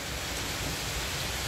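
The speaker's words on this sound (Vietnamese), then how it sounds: "Ngoài là vừa mưa vừa nắng luôn mà." Steady rain falling outside a rural Vietnamese home during a sun shower, a constant close hiss with no voices heard.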